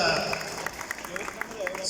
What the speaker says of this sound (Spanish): Un aplauso acá para mi amigo de Jogger.